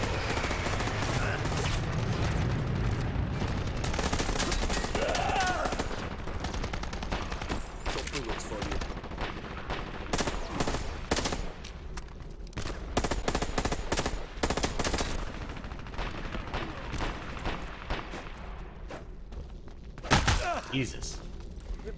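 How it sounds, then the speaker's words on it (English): Video game gunfire from incoming fire support crackles in rapid bursts and volleys, moderately loud and mixed under players chatting throughout. "Fire support incoming."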